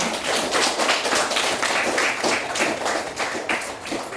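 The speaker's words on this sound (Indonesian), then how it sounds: "tepuk tangan untuk kita semua." Children and adults in a primary school classroom clap together in a steady, dense burst of applause that stays loud and close for the whole stretch, with no talking over it.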